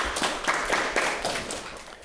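Brief applause at a municipal council meeting honouring local fire departments, a steady patter of claps from a small room, moderately loud throughout.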